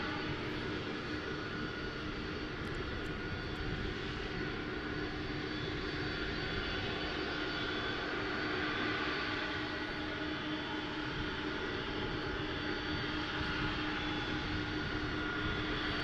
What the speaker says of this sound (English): You can hear those engines roar.